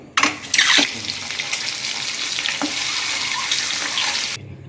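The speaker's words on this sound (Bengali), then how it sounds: "তেলের মধ্যে খুব সামান্য পরিমাণে একটু হলুদ গুঁড়ো, অল্প একটু নুন দিয়ে ডিমগুলোকে একদম লাল লাল করে ভেজে নেবো একটু" Duck eggs fry in hot oil seasoned with turmeric and salt, giving a loud, steady sizzle. A few sharp crackles and spatters stand out at the start.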